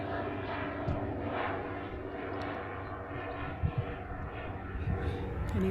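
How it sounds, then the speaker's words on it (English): A steady, broad engine roar of an airplane passing over the Old Sarum ruins in Wiltshire fills the background, fairly distant and continuous without much change. "Noisy airplane."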